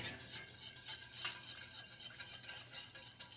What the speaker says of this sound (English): you want to immediately start stirring